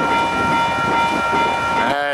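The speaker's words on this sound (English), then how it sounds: "That is some train, we can only see about half of it. Just roaring across the desert." A long freight train roars across the Mojave desert, loud and close with a steady rumble and high metallic squeal, then shifting pitched tones at the very end.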